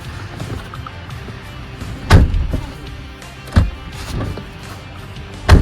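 Three sharp clicks and thuds of a 2022 Ford Bronco front passenger door handle and latch opening, spaced a second or so apart over faint background hum.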